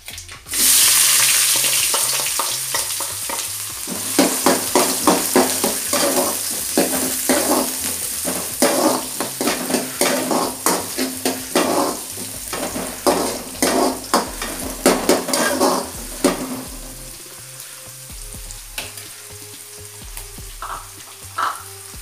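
Chopped onions hit a hot pan for a dried-fish thokku, bursting into a loud sizzle that holds steady while a spoon stirs in quick scraping strokes, then calms toward the end, close by with no voices.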